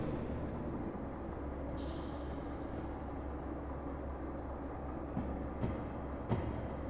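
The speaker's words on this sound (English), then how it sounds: "Since I put the brakes on, it's taking longer to prepare the air brake again." Simulated train air brake recharging in the Derail Valley railway game, a low steady compressor hum and rumble with a brief hiss of released air early on and a few soft clunks near the end.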